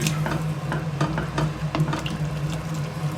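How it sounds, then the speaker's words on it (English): Ingredients get stirred into a stew pot with a wet, rhythmic sloshing and scraping that repeats about every half second, close and steady over a low hum. "These now we're going to stir it in and then leave it to stew for an hour or two"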